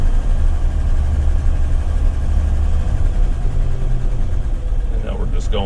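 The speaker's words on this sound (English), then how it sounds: "It fires right up. You can actually, you can hear the engine." A 1960 Ford Ranchero engine idles with a steady low rumble, close by and fairly loud, with a brief voice near the end.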